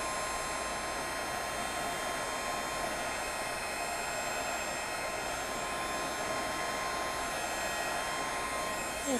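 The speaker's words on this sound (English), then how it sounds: "your heat tool takes a couple seconds to heat up" A heat tool runs steadily while melting embossing powder on stamped flowers, a constant loud blowing whoosh with a faint hum underneath, alone and unbroken throughout.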